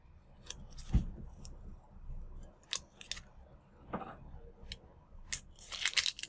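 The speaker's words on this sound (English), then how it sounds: "just peel off that transfer tape slowly, make sure everything is staying on the tumbler" Transfer tape is peeled slowly off a tumbler, giving faint, sparse crackling and snapping bursts against a quiet background, close by, with a denser flurry of crackles toward the end.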